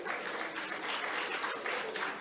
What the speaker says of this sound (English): Can we welcome the dignitaries with a round of applause, ladies and gentlemen?